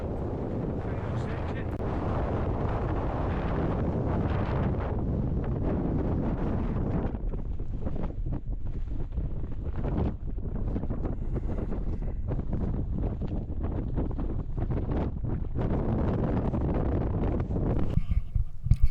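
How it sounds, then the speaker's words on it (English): Strong, very cold wind buffeting the microphone on a Scottish mountain summit, a constant loud roar with gusts throughout, no other sounds standing out. "it remained very windy up here, very cold wind"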